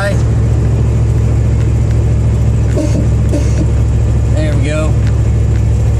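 A 1954 Packard with air-bag suspension runs steadily on a test drive, a continuous low engine drone and road rumble throughout, with someone talking briefly over it.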